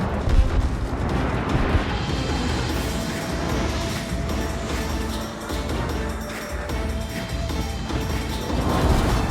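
Heavy naval gunfire from the HMS Nelson battleship's main guns in World of Warships, loud booming blasts and rumbling crashes that roll on continuously over several seconds with no voices.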